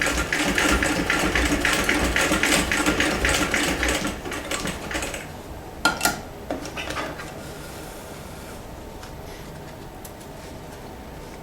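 A vintage Singer 206K sewing machine zigzag-stitches through four layers of denim, a fast, busy mechanical clatter for about four seconds that stops, followed by a few separate clicks and knocks and then quiet.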